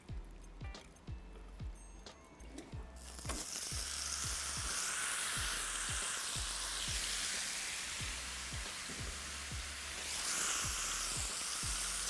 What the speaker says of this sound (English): My oil's nice and hot. And here I go into the pan, skin side down.